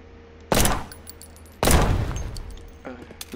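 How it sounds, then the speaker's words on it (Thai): Two loud, sharp gunshots about a second apart in The Killing Antidote, fired at a gas tank, each followed by a decaying rumble over a quiet background. "ไอ้นี่ถังแก๊สหรือเปล่าเดี๋ยวนะผมยิงก่อน"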